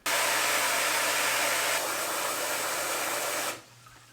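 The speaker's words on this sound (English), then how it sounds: "I might just grab the hose and actually just fill up some water in there now" A garden hose filling a chickens' water container on a homestead, heard as a loud, steady hiss of running water close to the microphone, with a constant low hum beneath, that drops off abruptly near the end.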